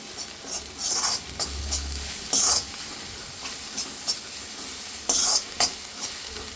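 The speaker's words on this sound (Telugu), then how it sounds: "దీన్ని బాగా కలపాలి." A spatula stirs amaranth leaves frying in a pan, with a soft steady sizzle under intermittent scraping strokes, close by.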